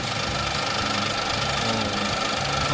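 A car engine idling after an oil additive has been poured in, a steady close hum with a faint rhythmic ticking throughout, no voices.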